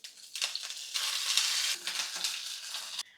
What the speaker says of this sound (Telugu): ఇప్పుడు వెల్లుల్లి రెబ్బలు వేసుకుందాము. ఇవి కొంచెం ఫ్రై అవ్వాలి.